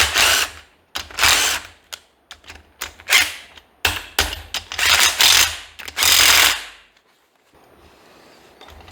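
A bolt on a crank bearing of a seized Fairmont motor being loosened with a ratchet: close, loud bursts of rapid mechanical clicking and cranking, stopping before a quiet end.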